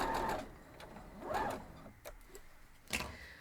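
A sewing machine stitches a four-square quilt block in short, loud runs of rapid mechanical whirring, separated by brief pauses and small clicks.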